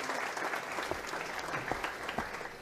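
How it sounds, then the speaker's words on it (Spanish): Applause from an audience in a comedy film scene, a steady dense patter of clapping at moderate level with a few sharper claps standing out. "Aplauso."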